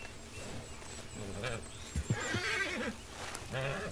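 Horse whinnying in the video game Red Dead Redemption 2, a close, loud quavering neigh in the middle with snorts and soft hoof sounds around it, faint talk in the background.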